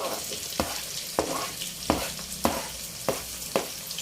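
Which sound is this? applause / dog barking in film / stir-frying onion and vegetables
stir-frying onion and vegetables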